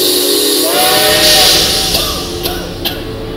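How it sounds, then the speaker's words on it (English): A circus show train's steam whistle shrieks loudly over a steady hiss of escaping steam, with a couple of sharp bursts near the end, at a Halloween scare-park stage show. "Imagine my circus train steaming"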